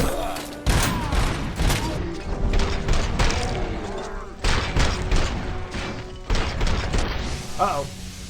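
Grenade blasts and heavy gunfire in RoboCop Rogue City, a rapid series of loud booming bursts and crashes close by, with talk over parts of it.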